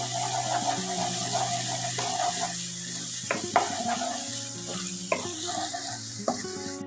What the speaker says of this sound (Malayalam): ചെറുതായിട്ടൊന്ന് ഫ്രൈ ആവുന്നത് വരെ ഒന്ന് ഇളക്കി കൊടുക്കാം.